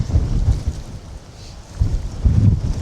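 Strong wind at an outdoor feeder fishing match buffets the microphone with loud, low, gusting rumble that swells, eases briefly, then surges again.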